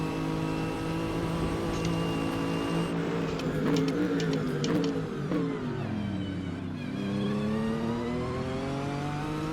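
A Nissan GT-R GT3 turbo engine in a racing game at Road America climbs through the revs with a loud, rising whine, briefly dips on a shift, then builds again steadily and close.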